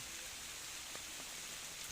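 Steady rain falls beside the Khwae Noi river in a durian orchard in Kanchanaburi, a continuous close hiss of drops spattering on leaves and surfaces with no voices.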